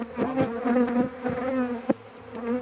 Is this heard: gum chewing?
no